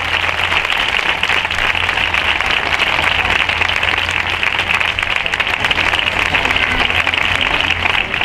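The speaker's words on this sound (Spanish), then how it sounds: "José Joaquín Blandino, un fuerte aplauso para él" Audience at a music band concert applauding, a dense, sustained clapping that stays steady and fairly loud with no talk over it.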